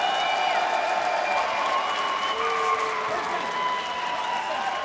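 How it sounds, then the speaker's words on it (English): A boxing arena crowd at a world championship quarter-final session applauds and cheers in a sustained, dense roar with a commentator talking over it. "If you're hearing the big cheer"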